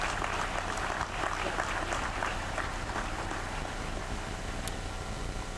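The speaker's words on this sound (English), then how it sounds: "Please join me in applauding these great people" Large outdoor college commencement audience applauding, a dense continuous wash of clapping that holds steady and fairly distant throughout, with no voices on top.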